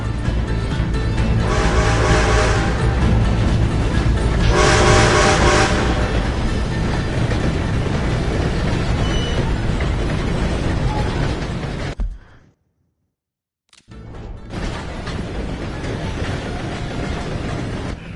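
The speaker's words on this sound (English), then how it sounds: "Gotta beat that train, Morgan!" Train rumbling past in the video game Red Dead Redemption 2, a loud sustained roar with chugging bursts and a whistle-like tone, cutting out briefly before resuming; voices shout over it.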